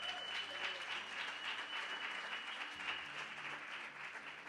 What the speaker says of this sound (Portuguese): Muito bem, um aplauso.